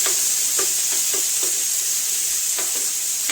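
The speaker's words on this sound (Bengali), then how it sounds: "আর এই একটু টমেটো, সবগুলোকে একসঙ্গে একটু ভালো করে ভেজে নিই।" Onion and tomato fry together in a pan with a constant sizzling hiss, punctuated by a series of short, sharp spatula scrapes and stirs at irregular intervals.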